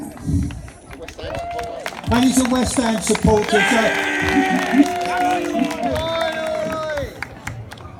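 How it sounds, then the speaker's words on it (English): Audience applause at the UK's Strongest Man (Under 105KG) 2019 results ceremony, clapping and cheers rising under someone speaking over a PA, continuing for several seconds. "So a big round of applause for Will here."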